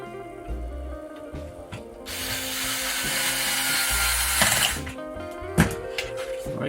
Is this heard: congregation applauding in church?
no